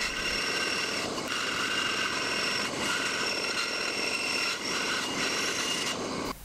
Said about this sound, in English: Then marking and cutting out the front to back profile on the bandsaw.